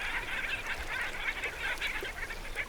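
Black skimmers calling along floodwaters in Colombia, a dense overlapping chorus of nasal, yapping honks from a flock, moderately close and continuous.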